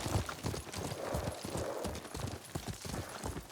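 Horse hooves clip-clop at a steady trot in the feudal-Japan video game Ghost of Tsushima, close and continuous under a faint wash of ambient noise.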